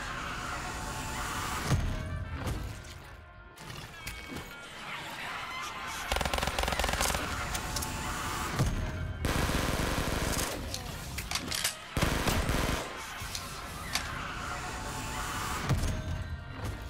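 Automatic STG assault rifle fire in a shooter game: dense, loud bursts of rapid gunfire with thuds, broken by brief pauses, and a voice talking now and then over the shooting.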